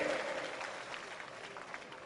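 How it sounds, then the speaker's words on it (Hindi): Audience applauding at a political speech, a rally on a harmony mission, with a burst of clapping that starts strong and slowly thins, mixed with crowd noise and a voice rising above it early on. "अरे ताली जरा जोर से ठोको"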